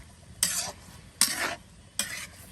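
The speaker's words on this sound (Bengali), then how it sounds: "এখন সব কিছু একসাথে কষানো হবে।" Three separate spoon scrapes stir chicken curry with potatoes and spices in a hot pan, each a short scraping stroke over a soft, steady sizzle, close and fairly quiet.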